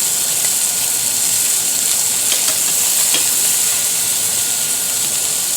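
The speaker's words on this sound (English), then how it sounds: "Give it a quick check. Nice little sear." Meat sears in a hot stainless steel pan for goulash, giving a loud, constant sizzling hiss that fills the whole stretch with only faint crackles poking through.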